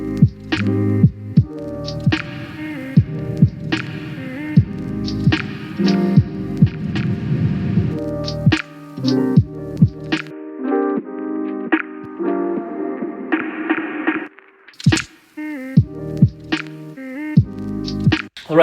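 A beat runs through a dense SP-404-style reverb with increased decay and density set up in Ableton, drum hits and chords washing into long smeared tails before the texture thins and turns dry.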